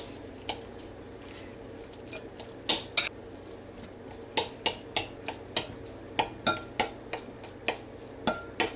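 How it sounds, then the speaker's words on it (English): A knife clicks repeatedly against a plate or board while two boiled eggs are cut up for tuna salad, producing sharp, irregular taps that quicken midway over a quiet kitchen background. "We've got 2 eggs that I boiled yesterday. And we're just going to cut those up."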